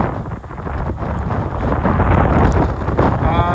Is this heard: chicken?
no